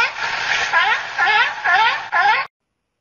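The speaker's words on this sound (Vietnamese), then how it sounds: "Con hải cẩu." A seal calls in a series of about four wavering, bleating barks, close and loud with brief gaps between them, and no talking underneath.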